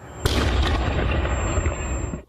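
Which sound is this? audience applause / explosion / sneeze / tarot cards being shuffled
explosion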